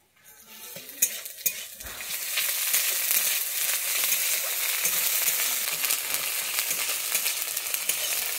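Ground ginger paste sizzles in hot oil while being stirred for a rui fish and potato curry, a dense, steady hiss that builds after a few clanks and scrapes, with no talking.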